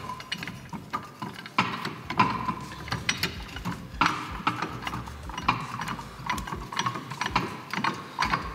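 Universal puller being fitted onto the hub bearing housing of a Volkswagen Transporter T5 during a generation 2 hub wheel bearing replacement: close metallic clicks and ratcheting taps in an irregular rhythm over faint background noise.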